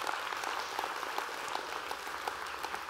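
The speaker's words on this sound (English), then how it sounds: "Let's give God an applause for that." A church congregation applauding after a sermon remark, a steady wash of many hands clapping, fairly faint and even throughout with no talk.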